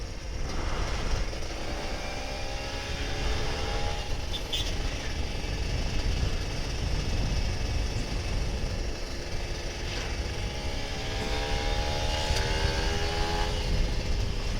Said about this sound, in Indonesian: Ini gue lagi nyari apa yang bunyi dari motor gue.